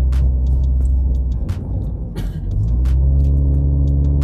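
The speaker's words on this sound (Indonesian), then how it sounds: "Kalau tolnya sepi kita gas" A 2016 Toyota GT86 heard from inside the cabin produces a loud, steady low engine rumble and drone on a toll road, briefly dipping in the middle before building again.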